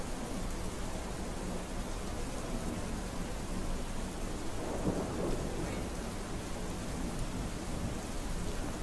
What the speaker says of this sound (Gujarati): ગાજવીજ સાથે મેઘરાજાની